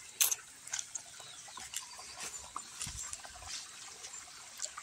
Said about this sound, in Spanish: Miren cómo corre el agua aquí.